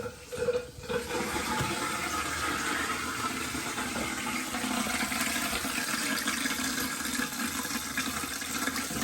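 A toilet tank refills through a newly installed fill valve after the water supply is turned back on, a loud, steady close rush and hiss of water running without pause, no talking.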